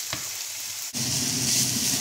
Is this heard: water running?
no